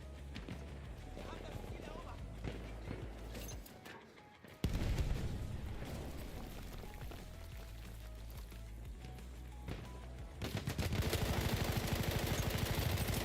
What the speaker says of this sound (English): That's a lot of bullets, mate.